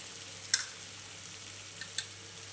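Ingredients for batata vada roasting in a pan over a medium gas flame, a faint steady sizzle beneath a low hum, broken by two sharp clinks of a spoon against the pan.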